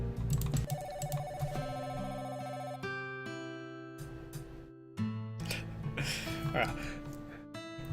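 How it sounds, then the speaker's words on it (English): A telephone rings inside an apartment in the video game Sakura Swim Club, a bright melodic ringtone repeating over layered game music, moderately loud and steady. "The phone is ringing."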